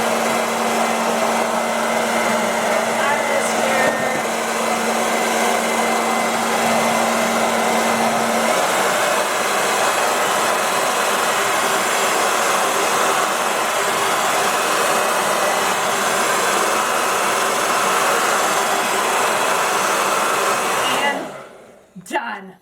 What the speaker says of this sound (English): A nice hot hair dryer pretty much gets the job done.